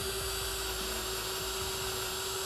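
Power drill boring holes in a pipe for a homemade dog toy, a steady high-pitched whine held close and continuous.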